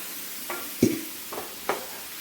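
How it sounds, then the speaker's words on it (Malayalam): A spoon works ground coconut paste into tomato curry in a pan, giving a few short, close scraping strokes with faint sizzling between them and no voices. "ഒന്നിളക്കി കൊടുക്കാം"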